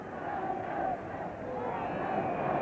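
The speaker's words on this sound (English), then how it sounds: "Continuous chant of United from this enormous crowd" An enormous football crowd of almost 60,000 at the 1969 Newcastle United v Ujpest Dozsa Fairs Cup final chants United, a continuous distant roar of massed voices that swells and falls.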